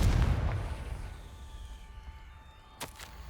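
A Confringo spell explosion in the video game Hogwarts Legacy: a loud booming blast with a rumbling low tail that fades over about two seconds, followed by a short sharp crack near the end.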